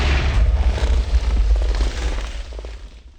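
A Miracle Cannon attack from the Jujutsu Craft mod in Minecraft blasts out as a loud, booming, rumbling explosion that roars for about three seconds before tapering off.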